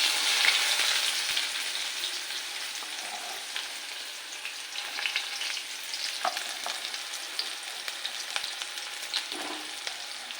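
Onion with curry leaves fries in a pan for a home-style bhendi bharit, a steady close sizzle with crackling pops and occasional stirring scrapes throughout.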